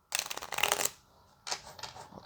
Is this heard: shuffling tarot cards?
yes